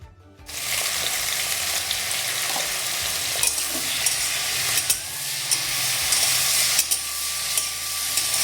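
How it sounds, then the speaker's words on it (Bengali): Bitter gourd slices sizzle in hot oil with a loud, dense, continuous frying hiss, broken by occasional clicks of stirring close by. "তেলের মধ্যে প্রথমে আমি করলাগুলো দিয়ে দেবো"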